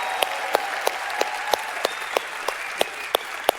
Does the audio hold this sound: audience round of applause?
yes